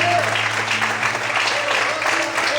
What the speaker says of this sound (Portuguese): aplauda o Senhor essa noite